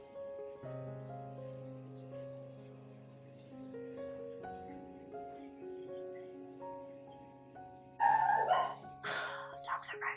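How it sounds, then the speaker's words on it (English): Several dogs bark loudly in sharp, close bursts, breaking in suddenly after a stretch of quiet tonal background sound. "Dogs are barking."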